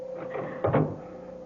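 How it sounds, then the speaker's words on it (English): A door is pushed shut in a radio drama, a short wooden thud near the middle of an otherwise quiet moment. "Close that door up."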